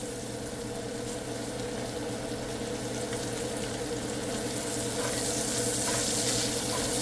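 Sliced portobello mushrooms sizzle steadily in a hot pan with bacon fat and butter, a close, continuous frying hiss with no talking.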